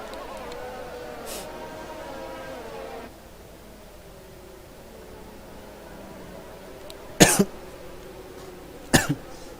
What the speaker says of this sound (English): Getting a bit of a cough there.